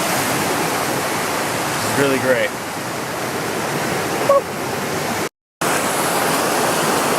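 A river rushes steadily beside a trailside campsite on the Art Loeb Trail, a loud, continuous broadband wash of flowing water that fills the scene. A voice speaks briefly over it, and the sound cuts out for a moment near the end.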